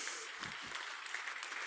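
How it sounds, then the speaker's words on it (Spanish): Church congregation applauding during a worship service, a brief spell of steady clapping heard at low level from across the room. "Denle aplauso al Señor."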